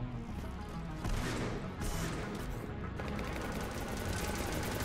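Dense, continuous gunfire from a shotgun and other weapons in the sci-fi shooter Mass Effect 3, loud and sustained with rapid overlapping bursts and crashing impacts.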